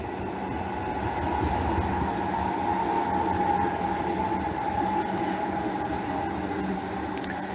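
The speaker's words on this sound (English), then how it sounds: "I'm hearing trams." A tram passes with a steady rumbling drone and a faint wheel whine, moderately loud and sustained from start to finish, with no voices.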